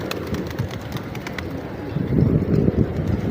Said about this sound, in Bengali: কবুতরগুলা সমানে আসতেছে